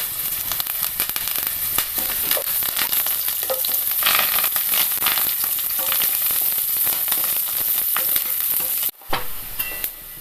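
Curry leaves and onion sizzling in hot oil for a masala mutton soup, a loud continuous crackling fry with scattered pops and stirring, breaking off briefly near the end.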